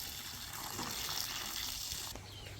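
Water pours and splashes steadily into cow dung being mixed for a biogas digester, a close, continuous wet churning that shifts slightly near the end.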